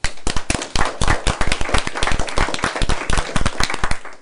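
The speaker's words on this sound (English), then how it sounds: "I think you do deserve a round of applause" A handful of people at a committee meeting clap in a quick, uneven burst of distinct, close hand claps, sharp and loud, carrying on steadily for several seconds with no talk over it.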